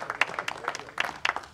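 Audience applause at a Pampas livestock show award for Angus cattle, a short burst of scattered, fairly close hand claps with no voices.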